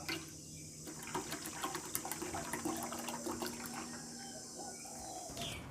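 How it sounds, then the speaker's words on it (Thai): A bottle of mineral water is poured into blended white turmeric juice, giving a steady splashing trickle for several seconds that ends abruptly. "ผมจะใช้น้ำแร่อีก 1 ขวดนะครับ เทลงไปผสมกับน้ำกระชายที่เราได้ปั่นแล้วนะครับ"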